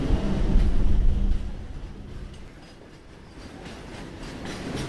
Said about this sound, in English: The train started moving.